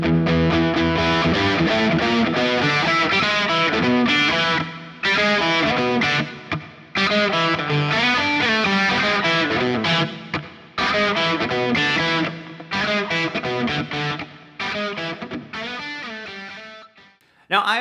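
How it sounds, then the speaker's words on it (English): An electric 12-string guitar played through heavy distortion rings out in loud, sustained chords and riffs, broken by a few short pauses, with no voices over it. "But when you add distortion, whew, gets cooking."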